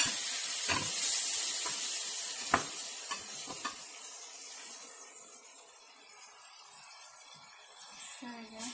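Soft sizzling hiss of tomato sauce in a hot pan for baked pasta, with a few scraping stirs early on, fading quieter toward the end.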